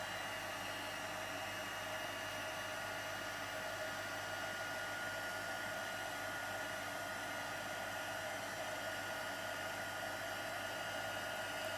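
A heat embossing tool blows steadily over a handmade card, a continuous loud, even whirring hiss like a hair dryer with no pauses, heard alone.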